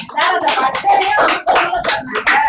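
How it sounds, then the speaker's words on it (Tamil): An audience claps in loud, uneven bursts that rise and fall in short waves, close and irregular, with no voices over it. "இனிமேல் கைதட்டுற ஒரு வாய்ப்பு எல்லாத்தையும் கொடுத்துடலாம்"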